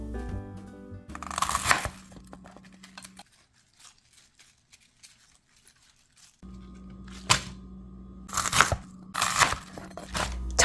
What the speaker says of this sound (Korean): 청경채는 밑둥을 자르고 잎을 분리한 다음